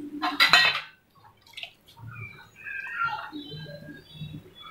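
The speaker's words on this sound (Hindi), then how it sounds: "अब हम इसमें इमली का पानी डालेंगे।" Tamarind water is poured into a pot of Gujarati-style sweet-and-sour tur dal, starting with a sharp clink of a utensil against the pot, followed by soft splashes and gentle bubbling, quiet and close.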